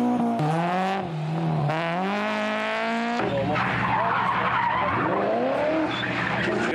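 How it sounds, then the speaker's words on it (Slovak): Sports cars squeal their tires at an airfield race in Sklabiná, with long, loud, pitch-sliding screeches followed by engine noise and more tire squeal close by. "pískajúce pneumatiky"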